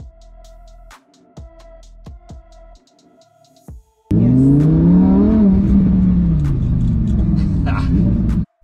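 A Lamborghini's engine roars up loudly and close, rising in pitch as the car accelerates and then holding a strong, steady drone, after a quieter stretch of clicks and muffled sounds.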